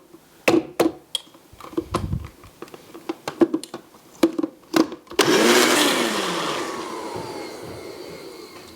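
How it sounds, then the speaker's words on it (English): Blender whirring up to blend a milk-based steak marinade, after several sharp taps and clicks; the motor roars in loudly, then its pitch and volume gradually wind down. "Okay, blended a lot easier than I thought it would"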